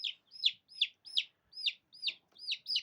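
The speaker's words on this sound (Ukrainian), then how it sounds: "Курочка." Young backyard chicken giving a quick series of about eight high, bright chirping clucks, evenly spaced and close, with faint handling noise beneath.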